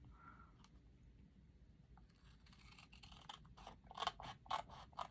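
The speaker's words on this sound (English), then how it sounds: "the scissors. I'm going to just cut right up along." Scissors snip through paper for a flip book pocket, a series of crisp, close cuts that quicken toward the end over a quiet room hum.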